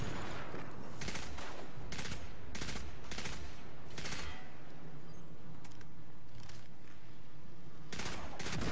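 Bursts of gunfire from a weapon in the sci-fi shooter Destiny 2, sharp repeated shots in irregular clusters across the stretch, sitting over constant low battle ambience without talk.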